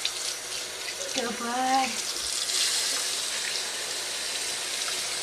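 Running water from a tap or sink rinses a baby's head, a steady close splashing stream while an adult speaks briefly and a short fussy infant cry rises over it.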